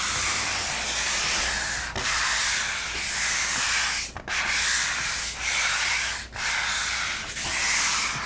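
Steady rasping of sandpaper rubbed by hand back and forth over a painted tabletop, continuous strokes broken by a few brief pauses, close and fairly loud.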